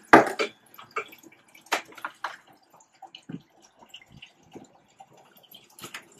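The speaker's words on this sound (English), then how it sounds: "you see the pump is pushing water up through this bulkhead" A small aquaponic system's submerged pump pushing water up through a bulkhead, heard as irregular close splashes, drips and gurgles separated by quiet gaps, with no speech.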